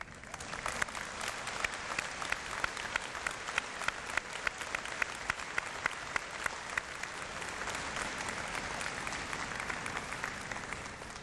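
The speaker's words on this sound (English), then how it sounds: "they deserve a round of applause" Sustained applause from a large audience at a university convocation ceremony, dense steady clapping throughout with no voices rising above it.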